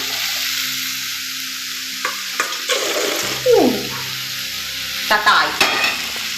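Peas are stir-fried in a kadhai with a constant sizzle in the background, broken by scraping stirs and the clatter of a spoon against the pan, all close by.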